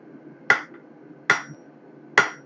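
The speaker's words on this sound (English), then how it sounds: "Ooh, do I not like this hammer?" A blacksmith's hammer strikes hot metal three times at an even, unhurried pace while a rose is being forged, each blow a sharp, close ring that fades quickly, with quiet shop background between.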